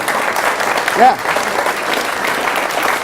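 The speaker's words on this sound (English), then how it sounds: "I'll wait till you clap." Audience applause during a comedy monologue, a steady wash of clapping with a short spoken remark briefly over it.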